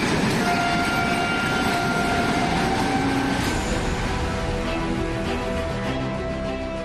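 An Oxygen Express train runs past with a loud, continuous rolling rumble and rattle, with a faint sustained horn-like tone and no talk.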